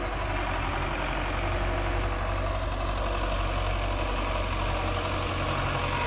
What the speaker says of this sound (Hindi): चाचू दी शान ट्रैक्टर उत्ते बैठे हैं तो वही चला रहे हैं।